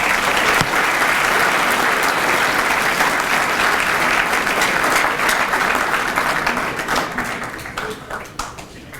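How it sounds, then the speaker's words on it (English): Conference audience applauding panelists after a panel discussion, a full, steady round of clapping that thins and fades toward the end. "Give them a round of applause."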